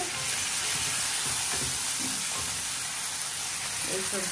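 Shrimp with cumin seed tempering, bay leaf, dried chili and a hilsa tail frying in hot oil, giving a steady, dense sizzle that hisses continuously throughout, with faint stirring and clatter underneath.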